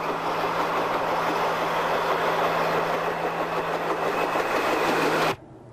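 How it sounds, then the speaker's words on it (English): Diesel railcar 42 arriving at the summit on a V/Line service, a steady loud engine drone with a constant low hum throughout, cutting off abruptly near the end. "Making its third appearance today is diesel railcar 42, arriving at the summit a couple of minutes late at 13:58"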